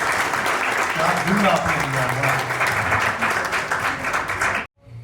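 A large audience at a Hindi poetry recital breaks into loud, dense applause that holds steady for about four and a half seconds, then cuts off abruptly into near silence.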